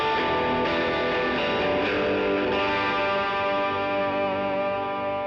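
Electric guitar played through an overdrive with a boost pedal placed ahead of it, a loud, aggressive distorted tone ringing with sustained chords throughout, no talking.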